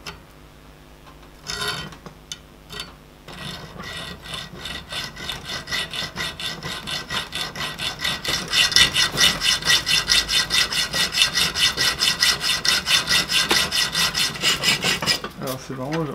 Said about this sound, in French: Donc je vais scier